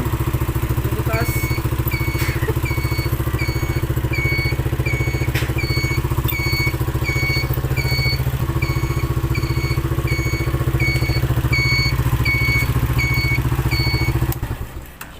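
A Rusi 175 motorcycle, brought back after failing to start, runs steadily at idle close by. A continuous engine drone with a ticking tone sits under it, then cuts off near the end.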